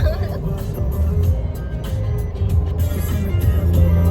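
Road noise inside a moving car on a drive to a farmhouse, with a steady low rumble and scattered knocks and thumps as luggage slides around, under people talking.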